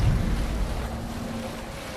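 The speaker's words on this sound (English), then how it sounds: "We can use the sail here, Abel. Let the sail out" Sailing ship at sea in Assassin's Creed Valhalla: a steady rush of wind and surf against the hull with a low hum underneath, continuous and fairly loud, with no talk.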